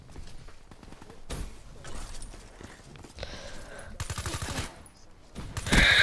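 Sentry gun in Black Ops 3 firing in rapid bursts of rattling automatic shots, a stuttering rhythm broken by short pauses, fairly close with a faint voice in the mix.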